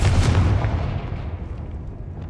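A Confringo spell blast in Hogwarts Legacy, one loud booming explosion that hits at once and rolls off into a fading rumble.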